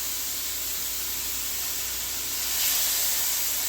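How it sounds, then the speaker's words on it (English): Seasoned chicken for bourbon chicken sears in a hot pan, giving a steady, close sizzling hiss that swells a little louder near the end, with no talking. "We're gonna toss it in, still let it sear."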